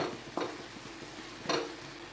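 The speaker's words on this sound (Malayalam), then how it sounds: "ഇനി ഇത് നന്നായിട്ടൊന്ന് മിക്സ് ചെയ്തെടുക്കാം" Chicken ilayada filling with carrot and cabbage stirred in a pan, two soft scraping strokes over a faint steady sizzle.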